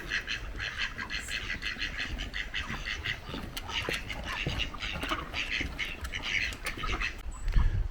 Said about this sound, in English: A few ducks.